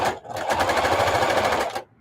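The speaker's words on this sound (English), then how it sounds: "And I'll sew it together." Sewing machine stitching a denim bag sewn from old jeans scraps, a fast steady mechanical rattle running loud and close for almost two seconds after a brief start.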